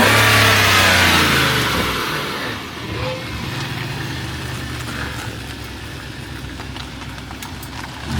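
A classic Jaguar S-Type car launches hard for drifting, its engine revving loudly up close before the roar drops into a steadier, more distant drone as it pulls away.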